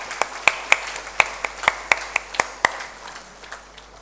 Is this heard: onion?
no